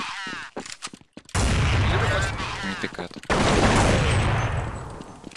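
Gunfire rattles in a competitive shooter match: dense, loud bursts of rapid shots in two long stretches, with players talking over the team chat.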